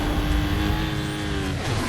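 A car engine in the Need for Speed Most Wanted video game revs loudly and continuously, with racing engine roar and pitch shifts.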